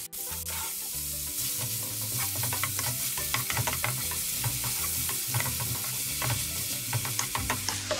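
Chopped ginger sizzles in a pan of garlic butter shrimp, a steady close hiss of frying with scraping stirring clatter throughout and no talking.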